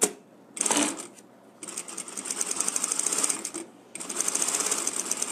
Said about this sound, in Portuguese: eu vou já começar a costurar esse aqui